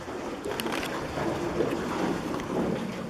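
Steady wind buffets the microphone over the rush and slap of water around a moving boat, continuous and fairly close.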